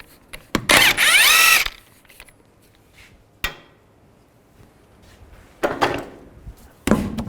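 A power tool with a 21mm socket spins off the wheel nuts of a 2005-15 Nissan Xterra in loud, close bursts of whirring and rattling, split by metallic clanks and quiet gaps, with no one talking.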